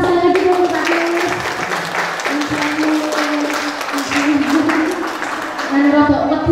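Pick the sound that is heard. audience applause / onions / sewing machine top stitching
audience applause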